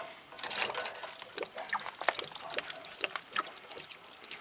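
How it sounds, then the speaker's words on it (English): Water drains from an RV water heater tank during anode rod replacement, trickling and splashing in an uneven stream, with irregular drips and gurgles, fairly faint and close. "A lot of water might come out."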